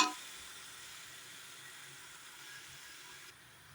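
Chicken pieces for a pressure-cooker chicken curry frying in hot oil, giving a faint, steady hiss that holds alone for a few seconds with no voices.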